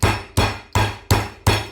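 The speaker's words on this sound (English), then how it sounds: "all I'm going to do is get my meat hammer" A meat hammer pounds a pork chop flat for schnitzel, giving five sharp, evenly spaced thuds up close, each with a quick fade before the next blow.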